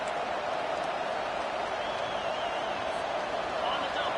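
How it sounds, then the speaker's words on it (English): Steady roar of a stadium crowd in a college football video game, LSU versus Texas A&M, a dense continuous wash of cheering at an even level throughout. "with this place rocking, the crowd forces a false start"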